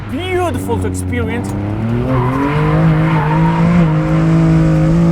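A BMW M2 Competition being driven hard, its engine note rising and falling with tire squeal and skidding on a track, loud and close throughout while someone talks over it.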